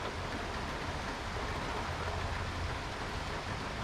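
Steady rain pours during a storm as a dense, even hiss that holds at the same loudness throughout, with no voices over it.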